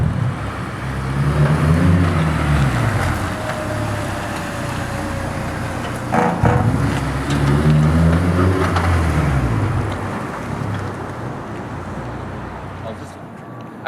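A clutch-type differential being broken in as a car drives around in circles, the engine note rising and falling steadily and near throughout, with sweeping tonal whine patterns.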